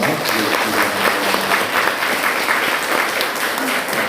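Sunday church congregation giving a round of encouraging applause for its teachers: steady, dense clapping filling the room, fairly loud and even from start to finish, with a faint voice beneath it.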